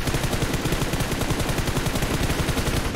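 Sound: gunshots from PUBG Mobile video game

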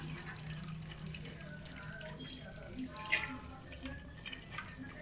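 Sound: water draining from strained cooked lentils for bassaru

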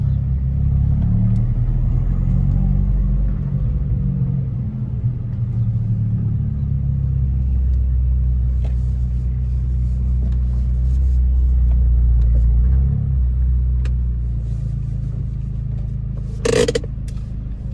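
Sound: Abarth 595 Competizione engine rumbling

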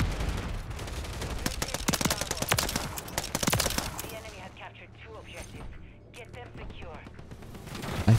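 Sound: gunfire in Call of Duty Modern Warfare 3 video game

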